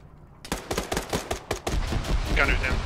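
Rapid close bursts of M32 grenade launcher fire and impacts against a vehicle in the ArmA 3 military shooter, a dense string of loud sharp reports with some voice chatter mixed in.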